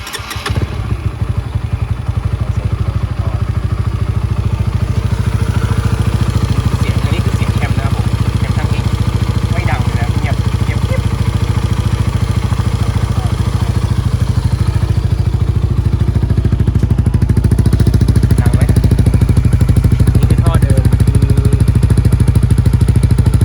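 Honda Sonic motorcycle fitted with a modified cam and stock exhaust, its engine running steadily at a close, loud idle with a deep thumping rumble throughout.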